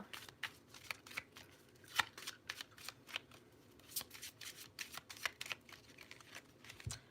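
Tarot deck shuffled during a card reading, quiet, close and steady papery flicks and snaps in an irregular rapid rhythm, with no talking.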